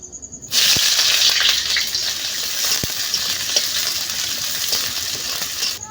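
Food cooking in a pan on the stove: a loud, steady frying sizzle starts abruptly and continues throughout, with scattered small clinks and pops.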